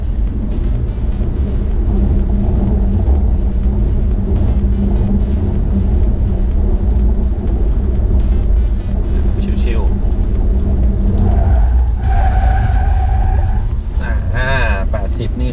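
A BYD Seal Performance cruises in sport mode at 80 km/h, with a steady low road rumble and tyre roar filling the cabin throughout and someone talking over it.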